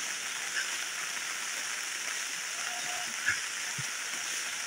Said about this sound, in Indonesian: sekali turun ni hari, terus hujan